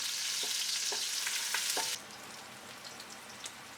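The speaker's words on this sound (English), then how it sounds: "add the onion, garlic, chilies and ginger into the pot. Fry for 2 minutes." Onion, garlic, chilies and ginger fry in hot oil in a pot for a fish soup, giving a loud, bright sizzle with a few stirring clatters for two seconds before the hiss quiets.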